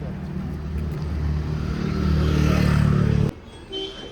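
Vehicles passing on a road in Kasol, among them loaded trucks, make a rising engine rumble that builds to a close, loud pass and then cuts off abruptly, followed by a brief fainter vehicle sound.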